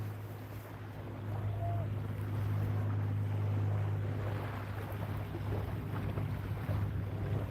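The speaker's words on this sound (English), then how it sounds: "Gorgeous day out here. A little windy." Wind blows on a beach during surf fishing, a steady rushing buffet across the microphone with a low constant rumble of surf underneath, no talk.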